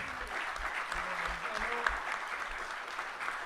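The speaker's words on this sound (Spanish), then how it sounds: "que pido un aplauso para Agustín." An audience claps during a book presentation in Argentina, a modest, steady applause with soft crowd murmur underneath and faint voices, fairly distant and even throughout.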